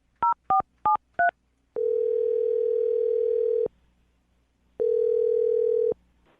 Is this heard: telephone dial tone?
yes